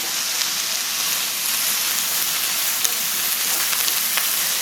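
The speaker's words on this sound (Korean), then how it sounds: "많이 볶아진 다음에 쭈꾸미 넣고 이제 볶을 거예요" Webfoot octopus and vegetables stir-fry in a pan over high heat, a steady, loud, close sizzle with faint clicks of stirring and no talking.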